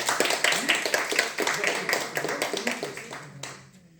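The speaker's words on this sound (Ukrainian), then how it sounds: "нагороджується аплодисментами." Applause from the audience at the closing award ceremony of the Kyiv Shogi Open 2024 tournament, a steady burst of clapping from a modest indoor crowd that fades out toward the end, with some voices mixed in.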